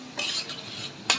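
Chopped onions fry until reddish in a pan for a rohu fish curry with tomato and cauliflower, with a spoon scraping and stirring through a soft, steady sizzle, ending in one sharp scrape.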